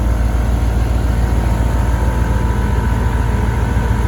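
An onboard air compressor on a Dodge Ram runs continuously with a steady, loud mechanical drone and fine rapid pulsing, close by, without pause or speech.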